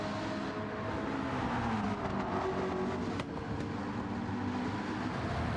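A McLaren race car engine in Gran Turismo 7 drones steadily at high revs through an endurance race, a continuous loud tone with slight pitch shifts and no talking.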